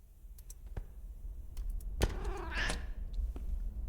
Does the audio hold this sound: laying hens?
no